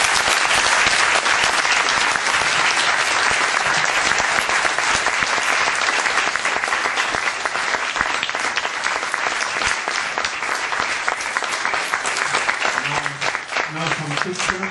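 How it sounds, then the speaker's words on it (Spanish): Sustained, dense applause from a large audience of about 150 children greeting chess masters from a Grand Slam final, loud and continuous throughout, with a few voices rising near the end. "os sugiero que les despidáis con un aplauso"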